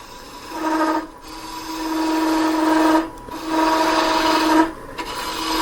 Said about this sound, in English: I call this a kind of a plunge cut. I'm using a bowl gouge for this part.